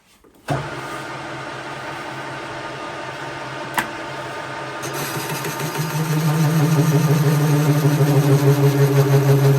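A crankshaft grinding machine starts up and grinds into an offset crank. It gives a steady, close mechanical hum that swells louder and rougher partway through, with one sharp click near the middle and no voices.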